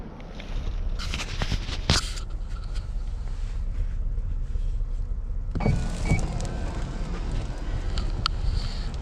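The third-row seats of a 2021 Hyundai Palisade Calligraphy SUV power-fold down with a steady electric motor whir, framed by clunks and latch clicks near the start and again after a pause.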